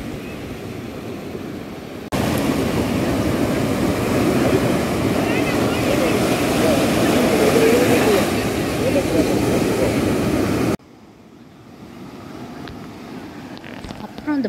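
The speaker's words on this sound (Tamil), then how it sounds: "இந்த பாறையெல்லாம் வந்து அந்த தண்ணி வேகமாக மூடும்போது அது ஒரு மியூசிக் மாதிரியே இருக்குது" Sea waves crashing on the rocks at Rock Beach in Pondicherry, a loud continuous roar of surf with heavy wind buffeting, then cutting to a quieter, distant wash.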